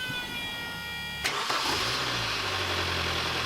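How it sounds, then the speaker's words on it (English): A car engine cranks and catches after its exhaust manifold was refitted, a sharp start followed by a steady, moderately loud idle, with a faint whine heard before it fires. "so the engine's sounding better now."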